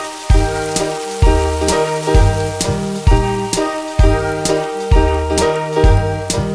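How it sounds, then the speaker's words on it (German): Rain sound effect in a German children's song, heard as a steady hissing patter beneath a loud, rhythmic musical accompaniment with repeating beats. "Oh, es regnet."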